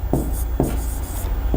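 Writing out a physics numerical on mirror reflection, three brisk scratching strokes spaced apart, close and distinct against a low steady background hum.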